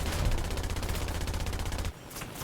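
Aircraft cannons fire in the combat flight game War Thunder, a fast continuous stream of heavy rounds rattling loudly for about two seconds before cutting off abruptly.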